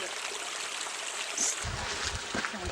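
McGinty Creek water running downhill off a hill, a soft, constant rushing trickle close by, with faint low bumps of handling noise partway through.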